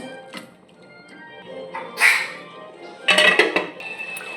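A cooking pot holding bitter gourd fry is covered with its lid, producing a few sharp metallic clanks and clinks close by, with quieter kitchen handling sounds between them.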